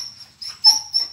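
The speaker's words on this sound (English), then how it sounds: "Anyways, it's the dog," A dog whimpers in the background, producing thin, high whining tones in short bursts that come and go over about a second, with no voice over them.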